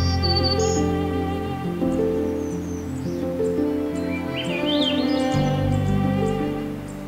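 Swainson's thrushes, myrtle warblers and other songbirds sing along a forest trail at Pine Tree Point North, with fluting and trilling phrases drifting in and out over a steady background wash.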